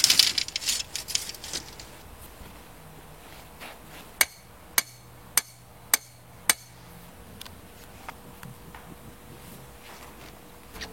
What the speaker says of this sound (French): enfonce des supports de bande de délimitation.